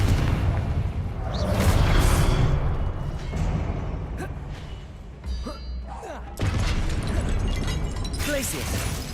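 A Confringo blasting curse from Hogwarts Legacy bursts with a thudding boom and crackle among other spell impacts, with a player's voice talking over the action.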